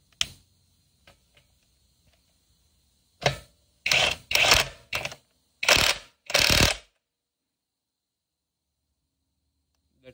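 Cordless LYUWO electric wrench loosening a tight bolt: four loud, close bursts of impact hammering, each under a second, after a few faint ticks, then silence.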